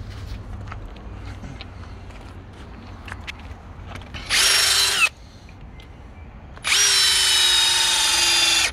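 A power drill drives anti-split screws into a timber arbour seat in two loud whirring bursts, the second longer, separated by quieter rustling and handling sounds.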